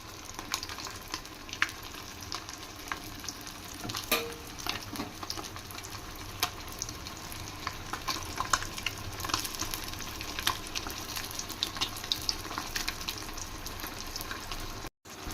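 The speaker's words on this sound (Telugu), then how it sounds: "అదే విధంగా మొత్తం వేసుకొని ఫ్రై చేసుకోవాలండి" Fish pieces frying in hot oil for a crispy Nellore-style fish fry, a steady dense crackling sizzle that continues without a break at close range, with no voices.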